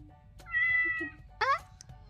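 A MetaCat robotic interactive cat gives a drawn-out electronic meow followed by a second shorter, brighter meow, close and clear over faint room noise.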